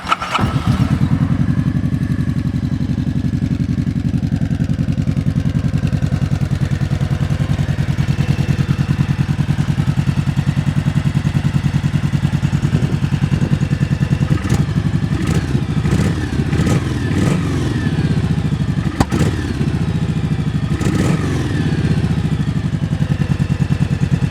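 A 2009 Kawasaki Vulcan Nomad 1700 motorcycle engine fires up and settles into a loud, close, deep idle, with several sharp throttle blips and revs in the latter half.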